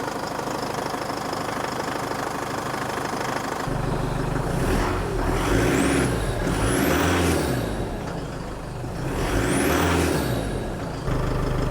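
A small 4J truck engine from a 60 Series Land Cruiser idles steadily, with a rough knocking rumble that rises in revs a couple of times before settling back down.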